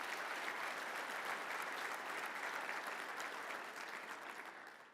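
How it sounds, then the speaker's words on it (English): A large conference audience applauds their board of directors, a dense, sustained clapping that stays even for several seconds before slowly tapering off, with no talking over it. "one more round of applause for your board of directors"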